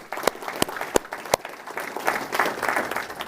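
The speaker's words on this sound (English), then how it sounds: "round of applause for Lou Doe" An audience at a Homeland Security awards ceremony in San Antonio gives a brief round of applause, opening with a few sharp, separate claps before spreading into scattered clapping at moderate volume.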